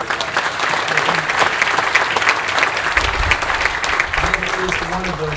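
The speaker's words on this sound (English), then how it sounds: "How about a round of applause for whoever did all the unbelievable work to make this place look as beautiful as it was." Audience at a groundbreaking ceremony in Guthrie, Kentucky, breaking into sustained, dense applause that stays loud for several seconds, with a few low voices under it.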